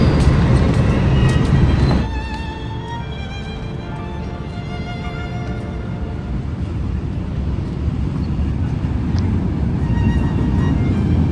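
An LRT Line 1 light rail train rumbles past nearby along the Pasig River Esplanade in Manila, a steady loud mechanical roar with a brief louder start that settles into a constant rolling drone.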